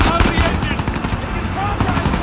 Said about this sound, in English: Gunfire coming from both sides